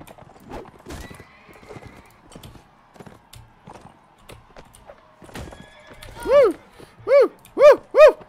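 Horses in the video game Mount & Blade: Warband, with scattered hoof clops and movement noises, then four loud neighs in close succession near the end.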